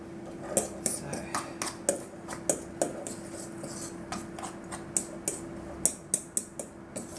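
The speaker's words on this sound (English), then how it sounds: "I'll continue mixing up my ground almonds with my egg." Ground almonds and egg stirred with a utensil in a bowl, producing a steady series of light clinks and scrapes against the bowl, close and moderately quiet, without talk.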